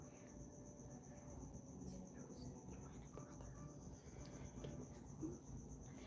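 Pet crickets chirping indoors keep up a steady, faint high-pitched trill throughout, with a low room hum underneath and no voices.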